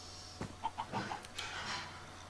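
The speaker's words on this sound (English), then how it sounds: "Sorry, Mr. Chicken's getting up here" A chicken clucking in the Minecraft video game, a quick run of four or five short clucks, fairly close over a low steady hum, with no talk.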